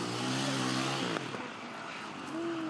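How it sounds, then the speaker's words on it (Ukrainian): Motorcycles racing on frozen ground, engines droning loud and steady with a revving, shifting tone, a brief knock midway, continuous throughout. "На замерзлому ґрунті мотоцикли просто зносить."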